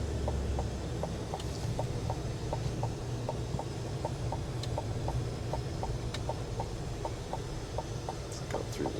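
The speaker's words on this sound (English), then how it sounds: "Listen to the blinker." A turn signal clicks in a steady, even rhythm, about two ticks per second, inside the cab of a 2025 Chevy Silverado 2500 HD pickup truck. The ticking sits over a constant low engine and road rumble, and no one speaks.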